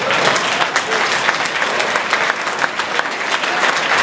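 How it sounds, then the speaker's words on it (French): Sustained applause from an audience at a cycling charity evening in La Rochelle, France, steady and dense clapping filling the room throughout without a break. "Là vous pouvez applaudir."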